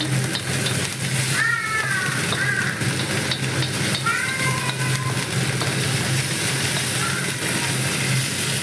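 Tadka tempering for shahi paneer sizzles in a pan, a loud, continuous frying hiss held steady throughout, with a few brief high chirping tones over it.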